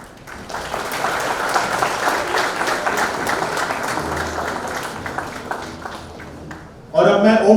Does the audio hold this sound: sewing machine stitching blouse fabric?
no